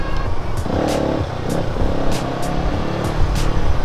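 Busy night road traffic of cars and motorcycles in heavy congestion on a muddy road, with a steady close engine rumble and several passing vehicles rising and fading over a few seconds.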